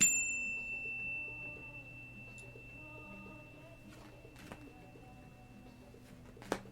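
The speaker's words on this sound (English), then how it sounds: "I'm going to chime my bell to clear the energy" A single bell chime rings out clearly at the start and then sustains with a long, slowly fading tone, with a few faint clicks and taps in the quiet room behind it.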